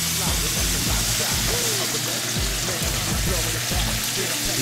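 Chicken frying in hot oil, a steady dense sizzle filling the whole stretch, loud and close with no break.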